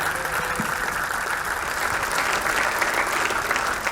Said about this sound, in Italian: chiederei intanto un applauso per la giuria, per il loro lavoro